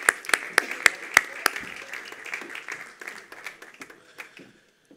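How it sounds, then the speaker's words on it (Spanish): An audience claps at the final of a flamenco guitar accompaniment contest. Several sharp, loud claps ring out at first, then the applause thins into scattered hand claps and fades to silence. "Un fuerte aplauso para Sol."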